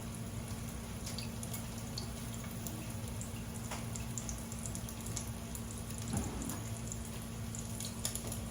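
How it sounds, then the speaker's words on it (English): Hands being washed under a running tap in a kitchen, a steady faint stream of water with small splashes and drips throughout, no talking. "Wash the hands."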